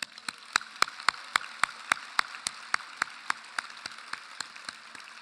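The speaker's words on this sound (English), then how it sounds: "Please join me in recognizing our stage party with a round of applause" A university commencement audience at the UT Knoxville College of Architecture + Design applauds. A low, steady spread of clapping sits under one nearby clapper's sharp, evenly spaced claps, which carry on at a slow, regular pace.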